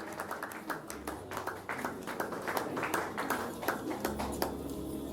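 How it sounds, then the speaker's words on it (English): Audience clapping at an awards ceremony, a fairly quiet room of scattered, distinct handclaps that thicken into steadier applause over about five seconds, with a low hum beneath. "I expect you all to clap a bit louder."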